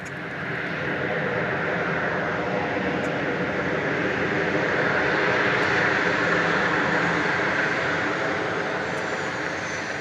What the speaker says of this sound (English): Going short here on runway 13 right is this Southwest jet from New Orleans.